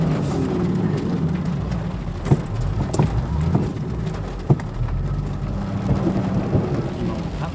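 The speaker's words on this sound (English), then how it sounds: "The rain was getting quite heavy and thunder started to rumble" Heavy rain drums steadily on a car stuck in the mud on a road in DR Congo, with a few sharp cracks and low rumbles of thunder breaking through the constant downpour.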